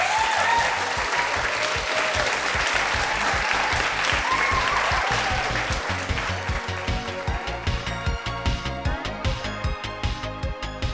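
A theatre audience at a live fringe festival show in Wellington applauds, loud sustained clapping that gradually thins into more distinct, rhythmic claps near the end.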